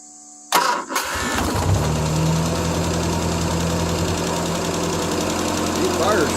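A 1975 Triumph Spitfire 1500 cranks briefly, fires right up, then settles into a steady, slightly fast idle, loud and close, running alone for several seconds.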